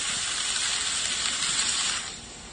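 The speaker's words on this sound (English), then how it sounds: "the sound of frying food" Bacon frying in a pan, standing in for rain: a steady, dense crackling sizzle that holds evenly for about two seconds, then drops slightly quieter near the end, with no voices.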